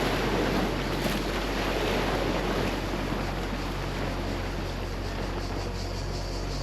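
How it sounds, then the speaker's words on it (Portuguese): Sea waves wash and surge close by near a boat on the Adriatic at golden hour, a steady broadband roar with wind buffeting the microphone throughout. "Isto, a ondulação agora foi por cima."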